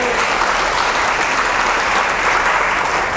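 A congregation at an evangelical convention in Planeta Rica, Colombia, claps in a dense, sustained burst of applause. The clapping is loud, close and even throughout, with no speech over it.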